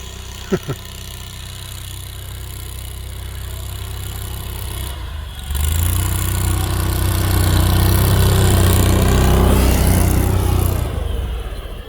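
An Argo Aurora 8x8 with tracks fitted climbs a hill, its engine idling at first, then surging louder and holding a strained, steady drone as it pulls upward, close by, with a couple of brief knocks near the start.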